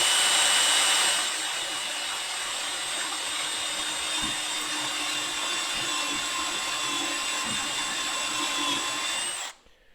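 Belt sander grinding burrs off a small metal part for rear clearance lights, a steady close whine with a constant tone that cuts off sharply at the end, with no talking.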